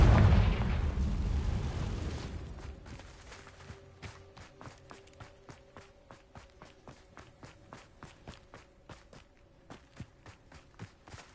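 A big explosive burst from the Confringo spell in Hogwarts Legacy booms and rumbles, then fades into a steady run of quick footsteps with a faint tone beneath.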